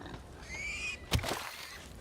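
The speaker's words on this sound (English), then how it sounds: "They're a bit dangerous, these pigs." In the video game Divinity: Original Sin 2, a pig gives a short grunting squeal, followed by a sharp burst and rumble, brief and close.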